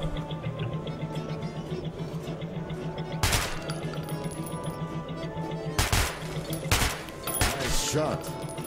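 Gunshots in Metro 2033 Redux, a few loud, sharp cracks at irregular intervals, the last two in quick succession, over background game ambience and voices.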